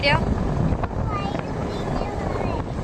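Wind buffets the microphone outdoors in steady gusty rumbles, loud and close, while people talk over it.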